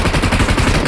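Rapid, dense gunfire from a video game battle in the mirror world, with continuous overlapping shots at steady loudness and no pauses throughout the short burst.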